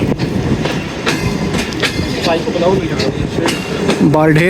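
Hazara Express passenger train on rails, running noise and rolling rumble steady throughout, with people talking over it and a brief squeal near the end.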